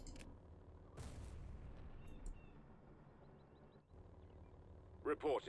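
Blaster gunfire and artillery booms in the space strategy game Star Wars Empire at War, with scattered shots and thuds over a low rumble and a few loud bursts at the close.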